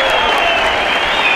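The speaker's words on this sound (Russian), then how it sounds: "Первым свою порцию бурных оваций получил бронзовый призер Олимпиады 2016 Альберт Саритов" Applause breaks out at a ceremony honouring athletes, including an Olympic bronze-medal freestyle wrestler, with a dense crowd clapping loudly and steadily throughout.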